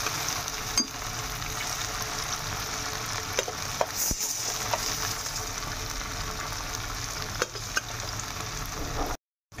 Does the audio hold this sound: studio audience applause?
no